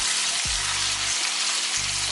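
A steak sizzles steadily in a hot pan, a loud continuous broadband frying hiss with a low hum of the stove underneath, no talking.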